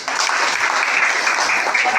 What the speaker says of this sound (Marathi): त्यांच्याबद्दल आपण टाळी वाजवून त्यांचं स्वागत